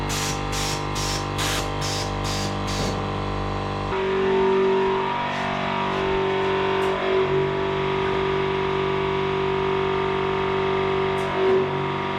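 A car's aftermarket Ride Tech air ride suspension lowers another corner: a quick run of sharp air bursts gives way to a steady hum and hiss of the system working, fairly quiet and without talking.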